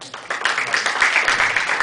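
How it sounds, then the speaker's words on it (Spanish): Audience applause welcoming a speaker at a law conference, steady clapping that swells after a brief start and continues through, moderately loud. "Por favor, demos la bienvenida al doctor Walker Villanueva con un fuerte aplauso."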